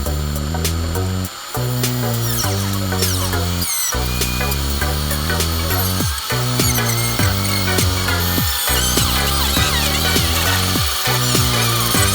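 A power tool trims a car part during a cooling fan install, its loud, continuous whine broken by several short pauses, with no talking.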